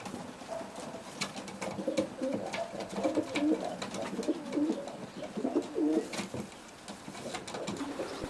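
Racing pigeons coo in a stock loft, with repeated soft throaty coos rising over faint background rustling. Nearby and moderate in volume, with no one talking.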